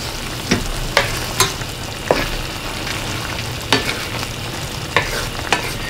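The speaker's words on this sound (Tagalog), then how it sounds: "Haluin ko lang muna ito ng konti." Sautéed bottle gourd with sardines is stirred in a pan over a steady, loud sizzle, with sharp scraping strokes of the spoon every second or so cutting through the constant frying hiss.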